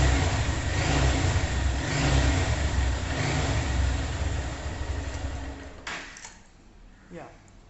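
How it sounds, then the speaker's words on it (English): A motorcycle engine runs steadily with a low mechanical rumble close by, then drops off near the end. "I'll show you the motorcycle is running perfect."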